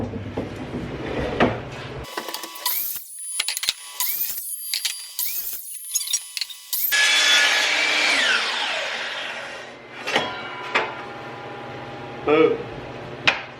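A 1.5-inch PVC pipe is cut into sections, with short bursts of clatter and handling noises followed by a sustained rasp of cutting and then a few sharp knocks.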